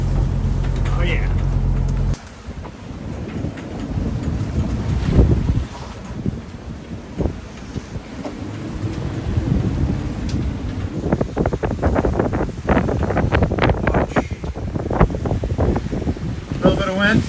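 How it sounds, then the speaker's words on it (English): Strong wind of about 28 knots buffeting a sailboat off Lefkada, Greece, a rough continuous roar with gusty surges and rigging rattle, close and loud, with people talking intermittently. "A little bit of wind."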